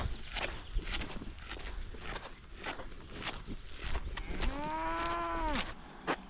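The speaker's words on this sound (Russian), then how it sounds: "Корова" A cow gives a single drawn-out moo near the end, clear and moderately close, over outdoor ambience and footsteps on a countryside walk in Moldova.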